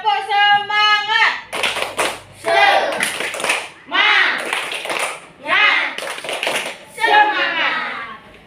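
Children in a classroom perform a tepuk semangat spirit clap, groups of sharp rhythmic hand claps alternating with chanted words, loud and close.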